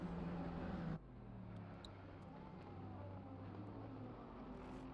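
Bentley GT3 race car engine droning steadily in a racing video game at Donington, loud at first then dropping to a lower sustained hum with gear-like pitch sweeps, no talk.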